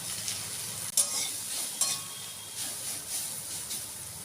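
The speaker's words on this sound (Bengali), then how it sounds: "তেলের উপর একটু নাড়াচাড়া করে নিয়ে" Chopped bottle gourd being stirred in hot mustard oil with cumin, mustard seeds and green chillies: a steady close sizzle with two sharp spatula clinks against the pan, no talking.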